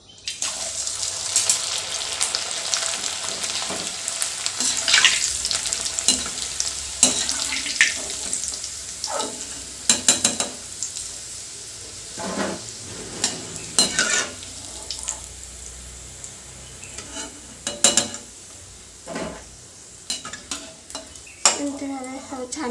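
Homemade rice papads frying in hot oil, bursts of sharp sizzling and bubbling that swell and fade as each one is dropped in and moved about, with scraping clinks between, no talking.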